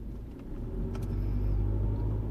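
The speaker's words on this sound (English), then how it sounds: "there's a little bit of traffic" Road traffic on Ocean Parkway in Brooklyn, a low rumbling car engine swelling steadily as the vehicle moves, heard from inside without speech.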